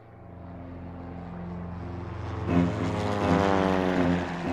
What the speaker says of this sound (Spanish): una escuadra de 30 aviones de la Marina de Guerra y la Aeronáutica bombardea la Casa Rosada